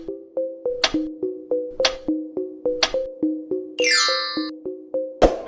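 A magic wand sound effect chimes out over a steady pulsing electronic beat, with sharp sparkly accents landing at intervals and one rapid cascading shimmer near the end.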